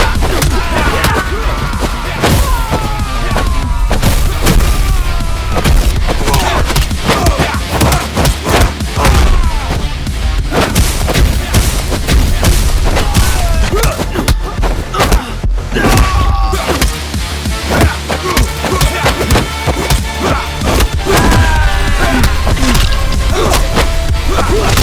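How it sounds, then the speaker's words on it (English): Dense, continuous gunfire and explosions from the action video game Midnight Fight Express, with handguns, shotguns and automatic weapons firing in rapid overlapping bursts and impacts, loud and relentless throughout with no pauses. "Each gun sounds differently, from the punchy handguns to the decisive shotguns and even down to the cadence of automatic weapons."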